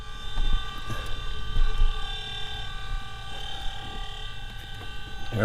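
A Cessna 150 piston engine cranks and catches, its propeller turning into a steady droning hum with a low rhythmic pulse, close and fairly loud throughout.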